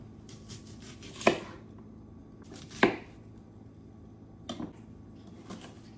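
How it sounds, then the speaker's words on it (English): Half of a large white onion is cut into bite-sized pieces on a board with a knife, giving three separate knock-like chops spaced over a few seconds against a quiet background. "We're gonna cut a little bit of onion."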